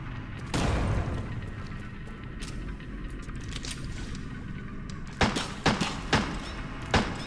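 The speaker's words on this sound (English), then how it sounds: "Now is time for a grenade, I think." Grenade blast in the survival horror game Crow Country: a heavy boom early on with a rumbling tail, followed later by a run of sharp thumping impacts.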